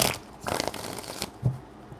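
Tarot cards being shuffled by hand in a few riffling bursts, crisp papery flutters and soft slaps close by, with brief pauses between.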